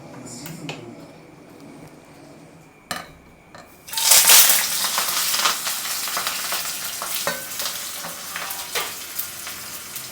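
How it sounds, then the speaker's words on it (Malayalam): Pearl spot fish wrapped in banana leaf hits a hot, oil-sprinkled pan and bursts into a loud, steady sizzle, with a few utensil clinks before and scattered crackles continuing throughout. "അരിമീൻ വാഴലേക്ക് പൊതിഞ്ഞിട്ടുണ്ട് ഇനി നമുക്ക് ചട്ടിലേക്ക് ഇടാം ചൂടായിട്ടുണ്ട് എണ്ണ തളിച്ച്"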